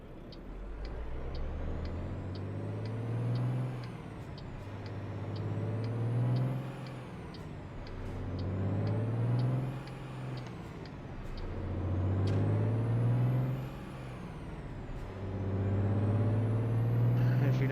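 A 10-speed truck travels between Houston and Lufkin with a steady engine drone that rises and falls in repeated cycles as it works through the gears, and someone speaks over it.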